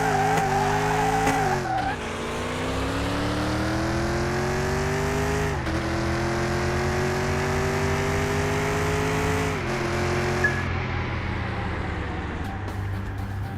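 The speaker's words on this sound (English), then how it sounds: "Tim's racing a Mitsubishi." Race cars in a video game, including a Mitsubishi, roar continuously at high revs, with engine pitch repeatedly climbing and dropping sharply at gear shifts, plus tire squeal and skidding.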